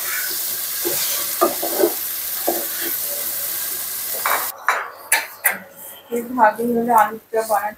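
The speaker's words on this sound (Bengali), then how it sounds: "এখন ভালো করে মশলাটা কষিয়ে নেব।" Spice masala fries in a pan with some sizzling and clinks of the utensil while being stirred, partly under someone talking throughout.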